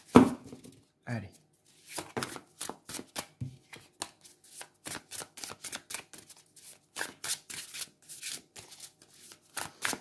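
Tarot cards being shuffled by hand in a run of quick, crisp riffling and slapping bursts, close and fairly loud, repeating in an uneven rhythm with short pauses between bursts and no speech over them.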